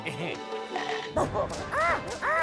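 A cartoon dog, voiced in an animated show, lets out high yips and whining whimpers in quick bursts, fairly close and clear over a busy soundtrack.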